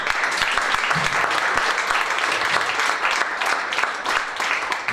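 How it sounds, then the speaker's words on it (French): An audience applauds students receiving a sportsmanship prize at a school award ceremony, dense sustained clapping from many hands filling the whole moment. "on peut encore plus les applaudir par rapport à ça"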